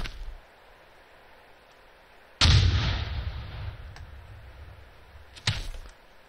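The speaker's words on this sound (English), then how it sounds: "Hey, we're taking gunshots." Two sharp gunshots ring out in the video game Arma 2, the first loud with a lingering tail, the second shorter, over a quiet background.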